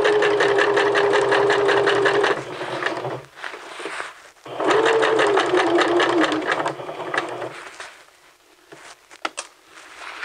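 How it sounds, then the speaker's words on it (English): A domestic sewing machine stitches a welt onto the front of a men's vest, backstitching at the start and end, running in two steady, close bursts separated by a short pause, with faint handling noise after. "stitch that welt to the front. Back stitching at the beginning and the end."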